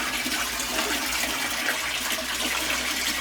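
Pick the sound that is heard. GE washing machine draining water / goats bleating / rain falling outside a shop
GE washing machine draining water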